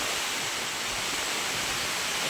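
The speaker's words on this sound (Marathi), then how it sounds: "पाऊस बी भरपूर आहे" Heavy rain pours steadily over waterlogged farm fields, a dense, unbroken hiss that holds at the same loudness throughout, with no voices.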